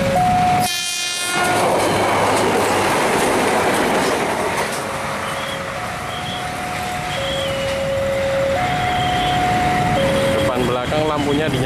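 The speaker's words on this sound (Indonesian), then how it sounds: "Oke, kita fokus ke kereta istimewanya." A special passenger train passes close by with a loud, sustained rumble and rail clatter, sounding a sharp horn blast early on followed by a long series of melodic horn tones.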